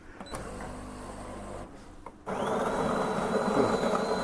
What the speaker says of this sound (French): Donc le moulin se lance.